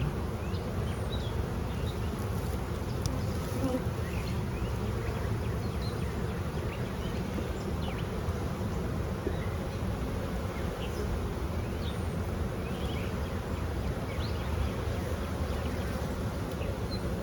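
Dense, continuous buzzing of many honeybees close by, a steady droning hum with occasional individual bees passing near.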